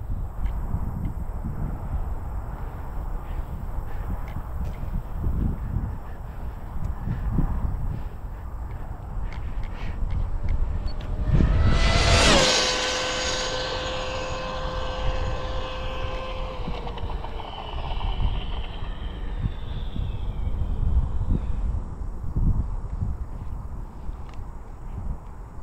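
A HOBAO VTE2 electric RC car on 4S parallel packs makes a speed run into a headwind: a high motor whine swells to a loud, sharp pass near the middle, then drops in pitch and fades away over steady wind noise.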